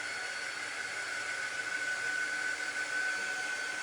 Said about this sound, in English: I'm just using my little air dry tool just to speed it up, make sure these are completely dry before we do our next step.